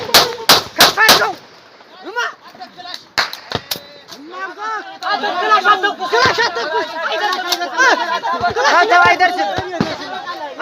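Rapid bursts of Kalashnikov rifle fire in a battle in Wollo, a tight cluster of sharp loud shots at the start and scattered reports after, with shouting voices and chatter running through most of it.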